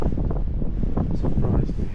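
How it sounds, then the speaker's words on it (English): Strong wind gusts buffet the microphone at Tantallon Castle, a coastal ruin in East Lothian, Scotland, producing a constant loud low rumble and roar throughout. "this section can be so windy"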